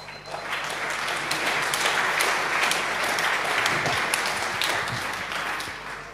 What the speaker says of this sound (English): You probably heard the applause you get.